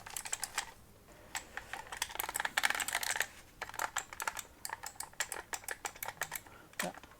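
An old, very dirty Amiga joystick is pushed around in every direction, giving a rapid run of sharp, close plastic clicks in quick irregular bursts.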